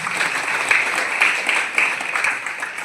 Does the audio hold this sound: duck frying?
no